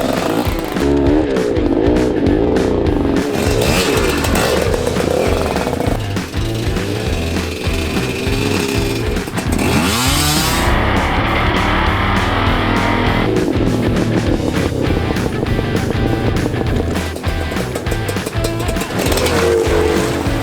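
A GPX Moto TSE 250R enduro motorcycle ridden over climbs and descents, its engine loud and close, revving and labouring continuously with shifting pitch, mixed with wind buffeting and rough rumbling.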